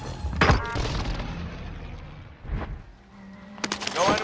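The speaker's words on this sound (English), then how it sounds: "Bastards are shooting at me!" Enemy gunfire aimed at the player in a shooter video game, a few separate loud bangs and thuds spaced across the stretch, with a booming hit early and more shots near the end, no talk.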